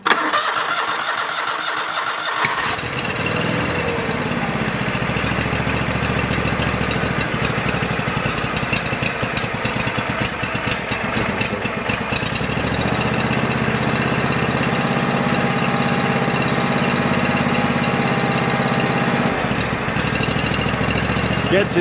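An old Go-For digger engine, found at an estate sale, cranks and catches after a quiet start, then runs as a loud, steady mid-pitched idle with a rough, uneven edge for the rest of the time.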